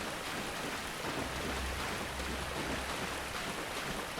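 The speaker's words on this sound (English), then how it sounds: "I can feel the rain pouring down right now" Steady, dense rain pouring down in Dark Souls, a continuous broadband hiss with a low rumble beneath, even and unbroken throughout with no voices.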